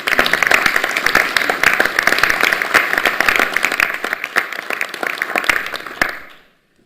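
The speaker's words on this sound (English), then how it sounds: "Let's give you a round of applause." Audience at a university system board of regents meeting gives a round of applause: dense, steady clapping from a room of people that holds for about six seconds, then stops.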